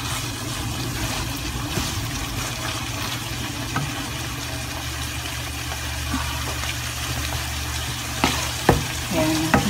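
Marinated ground pork and potatoes sizzling and frying in a pan as they are stirred, a steady close crackle with occasional utensil taps near the end.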